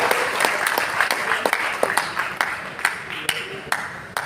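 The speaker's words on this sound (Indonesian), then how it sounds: "tepuk tangan buat Betawi." An audience at a Betawi community year-end event claps steadily, a dense wash of applause with a few sharper individual claps standing out.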